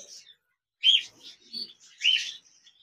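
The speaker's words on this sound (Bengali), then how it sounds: "এখানে দেখতে পাচ্ছেন একজোড়া সিলভার জাভা পাখি রয়েছে, রানিং পেয়ার" Small silver java sparrows chirp close by in short, sharp, high notes, two louder peeps standing out among softer twitters over a quiet background.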